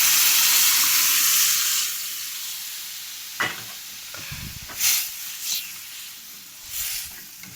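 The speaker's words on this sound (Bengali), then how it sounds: "তো এবার ডালগুলো মুগ ডাল এখানে ঢেলে দেওয়া হলো।" Moong dal tips into a hot pan and fries with a hissing sizzle that is loud at first, then settles lower. A few clattering stirs and scrapes follow, close by and with no talk.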